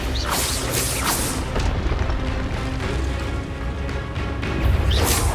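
The Expelliarmus spell in Hogwarts Legacy, a dense, loud, continuous magical blast with booming, crashing rumble and bright bursts at the start and end, without any talking.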